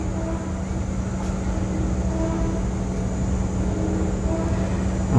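A Bajaj Pulsar motorcycle engine runs steadily after its power coil wiring was taped up, holding a continuous low droning rumble at close range with no talk.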